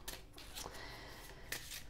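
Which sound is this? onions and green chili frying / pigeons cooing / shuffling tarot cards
shuffling tarot cards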